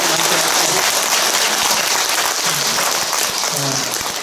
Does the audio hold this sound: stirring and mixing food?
no